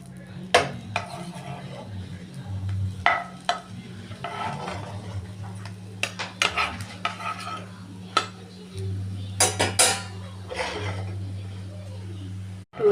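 Pancakes cooking in a covered pan as the lid is lifted and they are turned, with sharp metallic clinks and scrapes of lid and spatula over a low steady hum.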